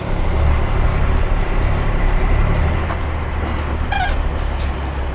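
A heavy truck hauling an oversize load drones loudly under added throttle, a constant deep engine roar with road noise and a brief higher whine partway through.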